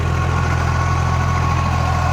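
A tractor engine runs steadily while powering a new sugar cane rotavator in a farm field, giving a continuous low droning hum with even vibration and no talking.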